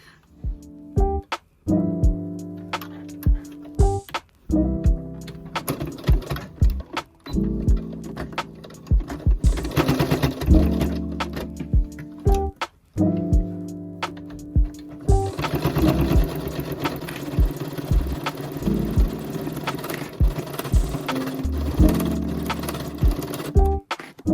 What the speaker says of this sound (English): I'll try to show you in with the machine closer so you'll be able to see.